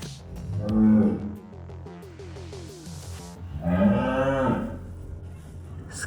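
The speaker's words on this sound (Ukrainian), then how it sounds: "корови мухають" Cows in a mountain village in Zakarpattia, western Ukraine, mooing loudly and close by, two long drawn-out calls with a short pause between, over faint background noise.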